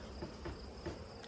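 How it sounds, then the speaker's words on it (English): Honey bees buzz faintly around an open backyard hive, a thin steady drone with a few brief louder pulses, no talking. "Whoops, there was a bee under my finger."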